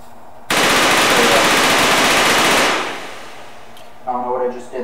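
A long, loud burst of automatic gunfire in the VR shooting game H3VR, lasting about two seconds as one rapid stream before tailing off, followed by a voice.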